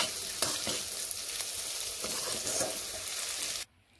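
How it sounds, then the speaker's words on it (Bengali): Cauliflower pieces fry in hot oil in a pan with a steady, close sizzle and occasional stirring, then the sound cuts off abruptly. "ফুলকপিগুলো বেশ সুন্দরভাবে এইভাবে আমার ভাজা হয়ে গেছে।"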